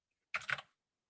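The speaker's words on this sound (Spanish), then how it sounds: "Me olvidé que estoy con este teclado que me compré, no tiene los numéricos." A few quick keystrokes rattle on a compact computer keyboard that has no numeric keypad, a short soft burst of clicks followed by silence.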